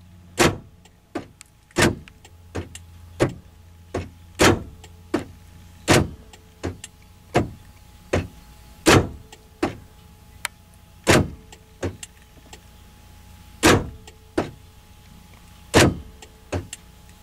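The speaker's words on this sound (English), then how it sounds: "I'm going to shut up and I'm going to lock and unlock the doors" Power door locks on a police car clack shut and open again and again, a steady train of about two dozen sharp mechanical thunks at close range, heard alone without talk.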